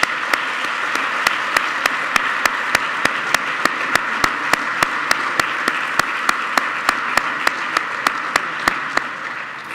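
A large audience at an award ceremony applauds steadily for about ten seconds, a dense, even wash of many hands with a few sharper claps standing out near the front.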